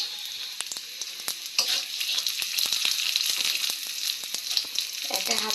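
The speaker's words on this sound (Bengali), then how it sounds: "জিরা ফোড়ন দিয়ে দিলাম" Cumin seeds sizzling in hot oil for tempering, a dense steady crackle with many sharp close pops throughout, loud and with no speech.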